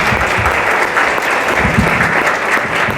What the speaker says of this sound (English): Graduates, please give your parents a round of applause